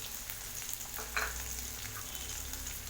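Chopped onion and two green chilies sautéing in a pan for masala bonda filling, a soft continuous sizzle with light stirring scrapes, fairly quiet and steady, no voices.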